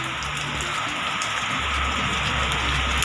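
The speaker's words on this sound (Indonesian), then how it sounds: "Ini lagi hujan ya, ini beneran lagi hujan." Light drizzling rain falls outdoors as a steady, even hiss of fine drops, constant and moderately loud, with a low rumble underneath and no talking.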